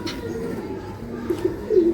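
Homer pigeons giving a few soft, low coos near the end over a steady background murmur, with no voices.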